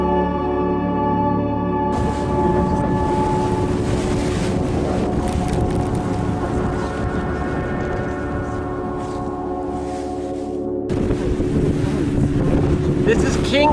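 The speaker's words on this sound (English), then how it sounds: "Wild Child is moving so fast in perfect sailing winds." A sailboat moving fast through the Caribbean near Kingstown, St. Vincent, in strong wind, heard as a loud, constant roar of wind buffeting the microphone over rushing water, with steady tonal humming throughout.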